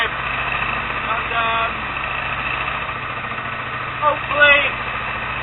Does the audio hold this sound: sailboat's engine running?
yes